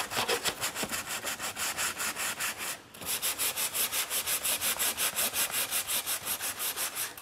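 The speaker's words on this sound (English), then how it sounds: "you just get your sandpaper, and you can see how we're starting to bring the wood out again" Sandpaper scrubs across a wooden crate in quick, even back-and-forth strokes, close and steady, with one short pause partway through.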